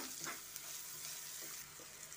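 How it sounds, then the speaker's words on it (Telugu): A dosa masala mixture is stirred in a pan, quiet sizzling and frying with soft scraping movements of the spoon, faint and close, with no talking. "ఈ మొత్తం కలిసేలాగా ఒకసారి తిప్పుకుందాం."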